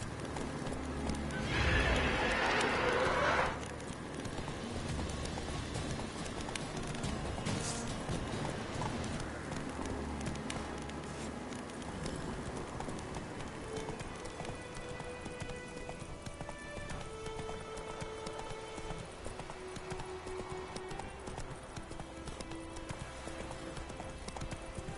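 Roach, a horse in The Witcher video game, gallops with rapid rhythmic hoofbeats under a burst of whinnying near the start, then continues alongside ambient game music and rain-like noise.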